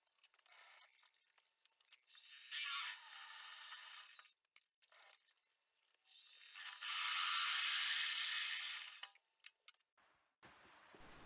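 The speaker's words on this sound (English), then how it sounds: "I'm going to drill right in the center, ending up with a large drill. This will remove most of the material." A large drill bores a hole through the center of a metal workpiece while a vintage-style adjustable wrench is being made. Two sustained grinding, rasping stretches are separated by quieter handling noises, close by and with no talking.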